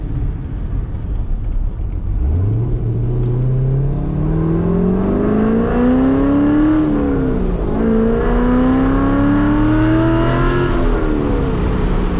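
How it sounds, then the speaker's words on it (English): Corvette C5 V8 pulling through the gears while driving, a loud, steady engine drone that rises and falls in pitch, with a small backfire pop that is hard to pick out, no talk. "Oh, that little bit backfire, boy."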